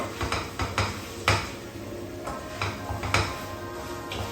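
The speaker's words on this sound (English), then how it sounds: "So to avoid that, just keep on stirring" A spoon scraping and knocking against a pot while rice for nasi lemak is stirred, giving irregular clinks and scrapes at moderate volume with no voices.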